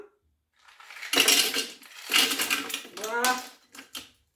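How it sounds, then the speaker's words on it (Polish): About 340 g of ice cubes clatter and rattle loudly into a Thermomix TM6 mixing bowl in several bursts, a hollow, clinking rush of tumbling pieces. "Do termomiksa, do naczynia miksującego wrzucamy 400 g kostek lodu."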